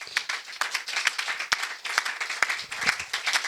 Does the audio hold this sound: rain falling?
no